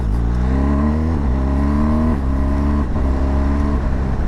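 A BMW R1250GS motorcycle engine pulls hard and loud during a test ride, its pitch climbing steadily in repeated rising sweeps as it accelerates through the gears, with a slight rattly edge to the tone.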